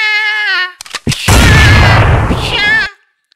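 Gunshots in a Sholay film scene: after a sustained tone, a few sharp bangs ring out, then a loud broadband blast carries for about two seconds before dying away into a trailing tone.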